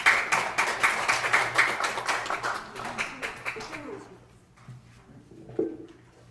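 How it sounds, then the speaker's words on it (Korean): An audience at a church leaders' press conference in Daejeon claps loudly and steadily in welcome, then the clapping fades out, leaving quiet room sound and a faint voice. "큰 박수로 맞이해 주십시오."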